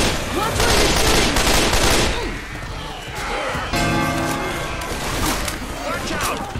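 Dense gunfire and crashing impacts fill a Left 4 Dead 2 match on The Last Stand, with loud, continuous shots and smashes close up while voices call out over the chaos.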